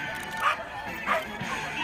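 A small breed dog yips and barks a few times at a disc dog show, short sharp barks spaced apart at moderate distance, with an announcer's voice and background noise around them.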